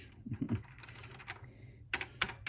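Keys pressed on the keyboard of a PC-01 Lviv home computer: a few close, sparse clacks and thumps in an irregular rhythm, with a couple of sharper key strikes near the end and no speech.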